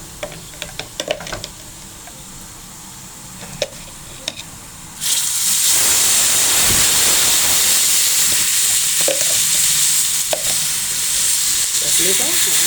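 Tomato paste sizzling and being stirred in a pot for Egyptian lentil soup. Quiet clinks and taps give way to a loud, steady frying hiss that lasts to the end, with occasional stirring ticks.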